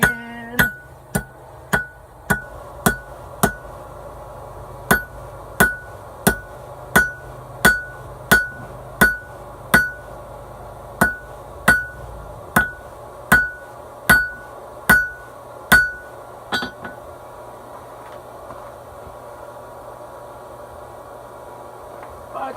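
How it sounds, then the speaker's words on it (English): A hand hammer strikes hot metal while forging a pizza cutter, in a steady series of sharp ringing blows, about one per second, close and loud, then stops and quiet follows. "From here out, I'm actually going to use the hand hammer."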